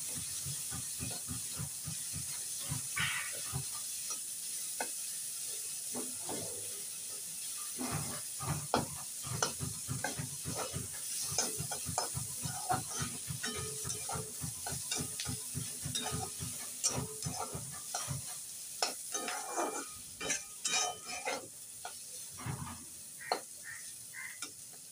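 Chopped green chili and onion fry in a pan at home, with a continuous close hiss and sizzle and frequent rhythmic stirring and scraping strokes, no voices.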